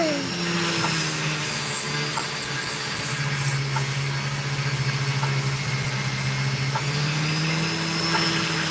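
An opal cutting machine runs with a steady, even motor hum and faint high whine, with soft regular ticks recurring about once a second, close and continuous throughout.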